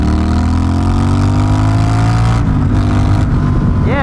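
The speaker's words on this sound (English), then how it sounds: "I love the decel noise." A Honda Rebel 1100 motorcycle with no muffler decelerates, its loud, close, raw exhaust drone sliding down in pitch, then breaking into rough popping and burbling on the overrun.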